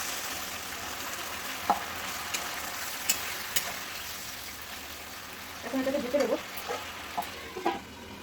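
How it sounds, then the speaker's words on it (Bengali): Food being sautéed in oil in a pan while cooking at home, steady sizzling throughout with a few scraping stirs and a brief bubbling burst near the end. "এখন এটা ভালো করে কষাবো"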